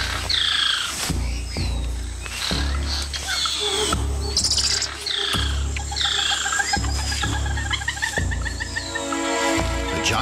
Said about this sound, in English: The squirrel monkey spots a harpy eagle and sounds the alarm, alerting everything in earshot.